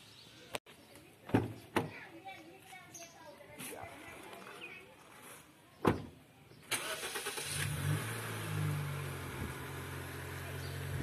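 A family member's car, with its engine starting and then running steadily at close range, preceded by a few sharp clicks and door or mechanism thumps, with faint voices in the background.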